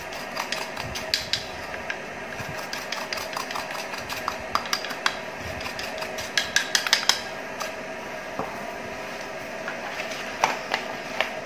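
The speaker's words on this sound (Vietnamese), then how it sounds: "Mình sẽ trộn cái muối ớt vào xoài nha" A utensil clinks and scrapes in a bowl while chili salt is tossed through sliced mango, giving steady, light clattering with a few sharper taps, close and with no talking.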